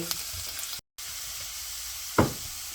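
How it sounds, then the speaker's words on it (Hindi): Finely chopped garlic cloves frying in hot oil over a medium-low flame give a faint, steady sizzle with a brief dropout and a short stirring knock near the end. "अब हमारा ऑयल गर्म हो गया। इसमें लहसुन डाल देते हैं।"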